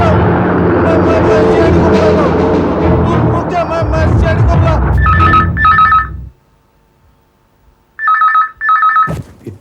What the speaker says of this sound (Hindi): इतनी रात गए, किसका फोन है?